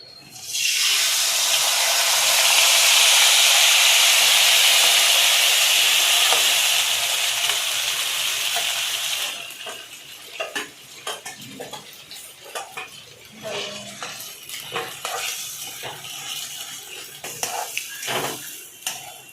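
Moriyo (samo millet) dry-roasting in a pan after cashews and almonds were fried, with a loud steady sizzle for about nine seconds, then scattered scraping and clinking as a spoon stirs the grains.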